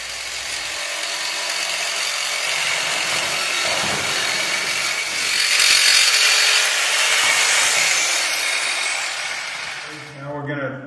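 A long snap cover is cut to length, giving a loud, steady grinding, whirring cut that swells midway and tapers near the end, with handling clatter as it finishes.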